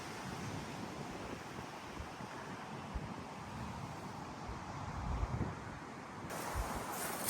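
Wind blows across an open farm field, a steady, rough rushing that buffets the microphone with occasional stronger gusts and no voices.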